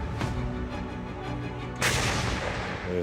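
A Bohdana self-propelled howitzer fires against steady rumbling background noise; a loud boom hits near the end with a sharp broadband burst, and a fainter thump comes earlier.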